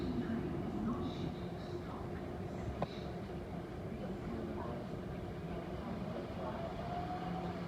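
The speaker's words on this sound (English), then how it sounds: "The Class 700 of Thameslink en route from Horsham to Peterborough." A Thameslink Class 700 train rumbles past from Horsham to Peterborough, a steady low rolling drone heard at a distance from a station, with faint background noise and no clear talk.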